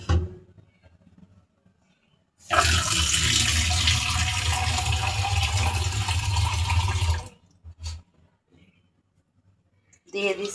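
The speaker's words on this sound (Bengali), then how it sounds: "দিয়ে দিচ্ছি আমি পরিমাণ মতো ঝোল" Broth poured into a pot of beef and taro cooking, a steady loud gush of liquid lasting about five seconds, with brief quieter sounds before and after.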